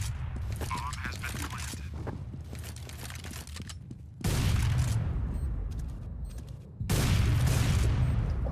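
Gunfire in Counter-Strike: Global Offensive, dense rapid bursts of shots and loud booming blasts that come in surges, up close and dominating the mix.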